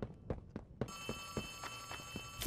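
A telephone rings in the horror game Poppy Playtime, a repeated ringing tone that starts partway through with a steady electronic buzz, while footsteps thud in regular rhythm underneath, fairly quiet.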